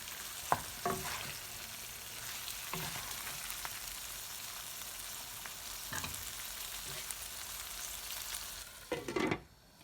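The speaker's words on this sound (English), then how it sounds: "Our brinjals have been stir frying in the masala." A low, steady sizzle of brinjals stir-frying in masala in a pan, broken by a few scraping stirs and a louder clatter near the end.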